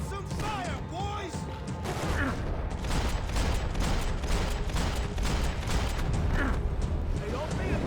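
Sustained gunfire in Max Payne 3 crackles as a thick, continuous volley of shots and impacts. It is loud and busy, with shouting voices mixed into the battle.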